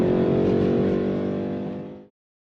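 A naturally aspirated car engine holds a loud, steady high rev, then fades and cuts off abruptly into silence.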